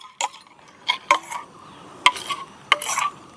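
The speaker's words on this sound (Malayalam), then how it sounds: "നമുക്ക് കുറച്ചുകൂടെ ഒന്ന് ഇളക്കണം. ഈ സ്പൂണിലെല്ലാം ഇളകി പോകണം." A spoon stirs melted sugar for dalgona candy, making sharp, close metallic clicks and scrapes in irregular bursts against the pan.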